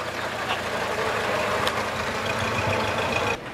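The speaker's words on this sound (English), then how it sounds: "It's a 100 horsepower 8-cylinder machine" A 100 horsepower 8-cylinder vintage car idles at a vintage and classic car rally in Kolkata, a steady, dense rumble that stays close and loud throughout.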